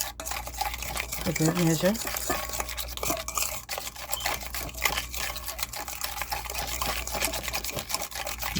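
Steady scraping and clinking of a spoon stirring sugar into a broccoli salad dressing, close and continuous, with a person talking briefly over it.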